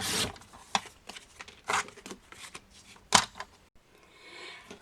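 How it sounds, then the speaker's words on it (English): Scissors cut through paper cards for a kids' Bible craft, a series of close, crisp snips and rustles at uneven intervals, with one louder cut near the end. "I'm choosing to cut it in half so I can cut these off."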